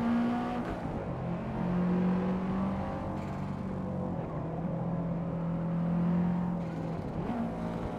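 A regular street car's engine in the racing game Forza Motorsport on PC, droning steadily and rising and falling in pitch as the car accelerates and eases through turns, with no one talking.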